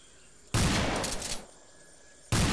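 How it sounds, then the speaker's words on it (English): Shotgun blasts in ARMA 3 set in a jungle: a loud, close roar lasting nearly a second, then a quiet gap before a second blast starts, with no voices during the shots. "You using a shotgun?"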